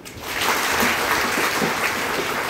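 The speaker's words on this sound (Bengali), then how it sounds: "আবারও হাততালি।" Audience applause at a freshers' welcome event for new university students, a dense sustained clapping that fills the whole stretch at steady loudness with no talk over it.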